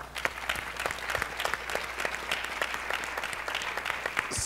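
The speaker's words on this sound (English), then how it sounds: "Give Alberto a round of applause." An audience at a national education summit applauds, a fairly faint but steady patter of many hands clapping that fills the whole clip without talk.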